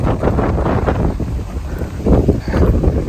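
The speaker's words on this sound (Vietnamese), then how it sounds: "gió lớn quá trời luôn" Strong gusting wind on a mountain road through a national park, a loud roaring buffet across the microphone that surges and eases with no talking.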